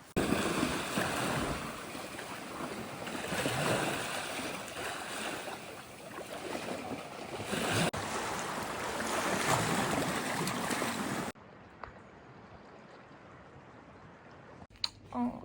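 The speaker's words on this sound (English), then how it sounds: "it's pretty windy." Strong wind buffets the microphone in a constant roaring rush, with surf-like noise, then cuts to a quieter stretch near the end.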